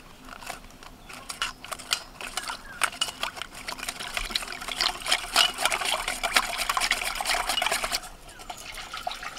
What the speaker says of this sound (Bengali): বাকি যে লিকুইড দুধটা আছে ওটা দিয়ে দিচ্ছি।